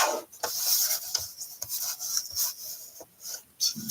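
A sliding paper trimmer cuts through paper with several short scraping rasps, each stroke close and distinct, separated by brief pauses.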